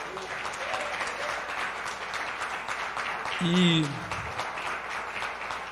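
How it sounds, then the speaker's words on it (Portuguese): A church congregation claps for Jesus during a service: a steady, soft patter of applause throughout, with a brief voice rising above it midway. "Você pode dar uma linda salva de palmas para Jesus?"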